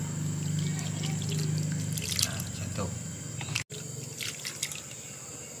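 Cooked porridge being strained through cloth into a basin of water, a soft running trickle and splashing with a few drips, accompanied by a short spoken remark partway through.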